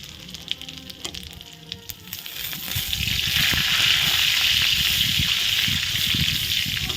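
A few light clicks, then a loud, sustained sizzle and crackle as dried red chillies, bay leaves and panch phoron spices fry in hot oil, close up.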